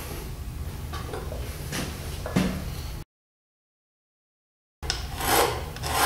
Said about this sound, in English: Get it deburred.